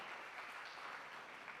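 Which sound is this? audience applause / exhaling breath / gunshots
audience applause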